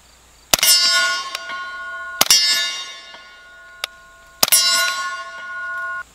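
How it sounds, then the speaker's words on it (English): Suppressed CZ Scorpion Micro firing subsonic rounds at steel targets: three sharp shots, each followed by a loud ringing clang that decays over about two seconds, plus a fainter extra ping. "Let's go ahead and shoot some steel."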